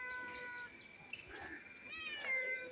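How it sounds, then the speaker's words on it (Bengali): A cat on a rooftop meowing, several faint drawn-out and rising meows close by in a quiet setting. "ম্যাও, চলে যাচ্ছিস কেন"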